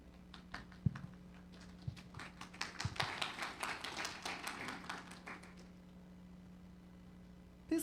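Audience clapping at the Recover Guyana SHOUT 2024 event, sparse claps building into a dense, sustained round of applause that stops abruptly before a final burst.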